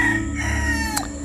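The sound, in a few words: roosters crowing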